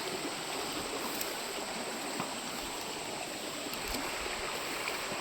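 A steady broadband rush of a rural river stream runs throughout, with small splashes and trickles as someone wades through the water during the monsoon; no speech, even and moderately close.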